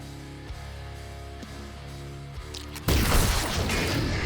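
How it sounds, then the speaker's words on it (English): Explosion in The Last Spell game: a sudden loud blast bursts out after a stretch of quiet tonal background music, then a dense rumbling roar carries on to the end. "Oh, that was a nice explosion."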